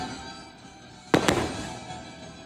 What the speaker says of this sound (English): There's fireworks going off. You can hear them in the background